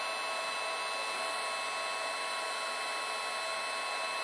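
A heat gun blows a steady, even hiss of hot air while warming a vinyl overlay on a 2022+ Subaru WRX headlight, constant and close with no speech.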